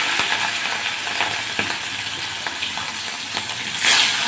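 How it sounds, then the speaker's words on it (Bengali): Shrimp hitting hot oil in a kadai for a Bengali prawn and potato curry, a loud continuous sizzle close by, broken by light scrapes and taps of stirring, swelling louder near the end. "এবার আমি ওই কড়াইয়ের মধ্যে চিংড়ি মাছটা দিয়ে দেবো।"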